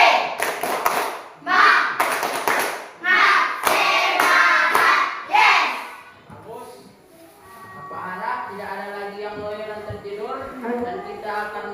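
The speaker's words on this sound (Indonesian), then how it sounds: "Ayo tepuk semangat." A classroom of pupils performs a rhythmic spirit clap, bursts of patterned clapping mixed with shouted chanting in the first half, followed by someone speaking alone.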